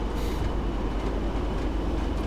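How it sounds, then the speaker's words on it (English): A Class 40 diesel freight train in a railway video game rumbles along in a steady, loud, continuous drone with no talking. "Fastest freight train in all of the lands."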